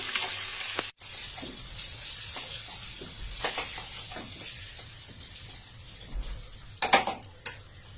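Potatoes seasoned with turmeric and salt fry in hot oil with a steady, loud sizzle that runs throughout, with a few sharper crackles and clinks near the end.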